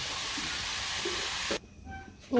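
Onions frying in oil with salt on a village stove, a steady broad sizzle and hiss that runs loud and even, then drops away suddenly before a short clatter at the end.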